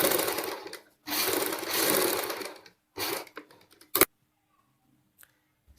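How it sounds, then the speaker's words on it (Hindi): A sewing machine stitches around a boat neckline in two long, steady bursts, then stops and starts in short jabs before falling silent, close and clear. "इसी तरीके से हम सिलाई लगाएंगे।"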